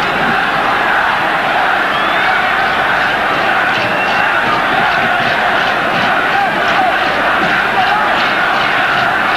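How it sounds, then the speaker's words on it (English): A stadium crowd at a 1994 Africa Cup of Nations football match between Zambia and Nigeria chants and roars continuously, a dense, loud wash of voices with a commentator talking over it. "The crowd chanting Zambia as he still come forward."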